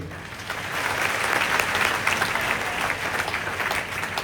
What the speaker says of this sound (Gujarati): શિક્ષકો માટે તાળીઓ પાડો કે જે તમને લઈ આવ્યા છે